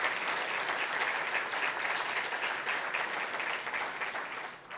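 An audience at a conference launching the 2013 Fête nationale in Saint-Lin–Laurentides applauds steadily, a dense wash of clapping from a crowd that holds evenly for several seconds before easing slightly at the end.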